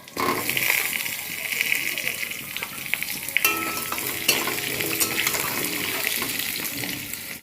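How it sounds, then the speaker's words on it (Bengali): Potato pieces fry in hot oil for a Bengali rui fish curry, giving a steady close sizzle with stirring scrapes and some watery splashing throughout, and no talk over it. "আলুগুলো লাল লাল করে ভেজে তুলব।"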